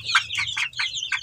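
A frizzle chicken with long curly feathers clucks close by in a quick series of about five short, high clucks, with no talk.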